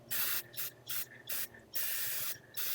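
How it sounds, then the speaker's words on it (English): An aerosol can of brake cleaner sprays onto the rear brakes of a Honda Accord in a series of loud hissing bursts, short and long, separated by brief pauses. "Running out a little bit of spray, but my other can's good."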